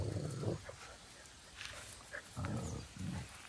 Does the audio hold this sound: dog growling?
yes